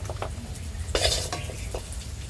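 A metal spoon scrapes and clinks against a pan while fried cashews and raisins are lifted out, with a few close taps, stirring sounds and a brief louder scrape in a quiet kitchen.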